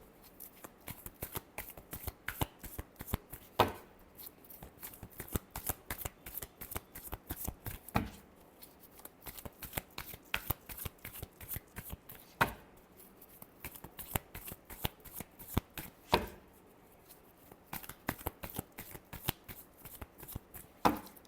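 Tarot cards being shuffled by hand during a reading, a long run of crisp riffling and snapping bursts with regular louder flicks every few seconds, close and alone with no voices.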